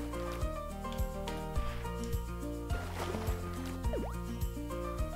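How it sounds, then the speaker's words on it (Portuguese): Liquid splashes and drips as water is thrown in the video game Ayo the Clown, set against bright looping game music with a few small watery squishes. "agora tem a habilidade de jogar água"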